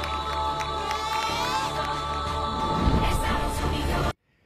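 A crowd applauds and cheers for a departing champion at a televised competition, a steady loud wash of clapping and shouts mixed with music that cuts off abruptly at the end.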